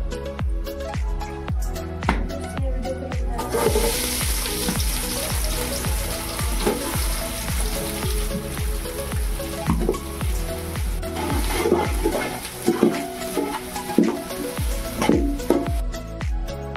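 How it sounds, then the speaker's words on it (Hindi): Onions frying in hot oil, heard as a loud, steady sizzle with spatters and occasional stirring movements, continuing alone throughout with music playing beneath. "एबे हमें प्याज सब पकईदबा"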